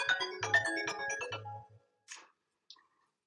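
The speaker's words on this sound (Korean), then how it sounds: "뭐만 하려고 하면 자꾸 전화가 오네." A phone rings with an incoming call, its melodic ringtone playing loud and close for about a second and a half, then breaking off into a couple of short faint chirps.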